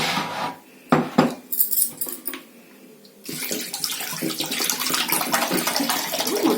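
Water is added and juice is poured into another bowl while pepper rasam is being made. A few soft knocks come first, then a steady close pouring and splashing stream fills the rest, with no talk.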